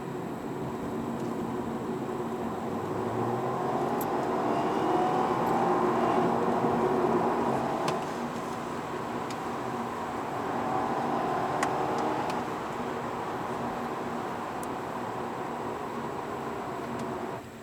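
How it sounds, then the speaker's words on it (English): Audi A4 2.0 Quattro engine droning steadily while driving on the road, a continuous mid-low hum with road and wind noise, rising slightly in a couple of places. "The engine noise is actually quite nice as well."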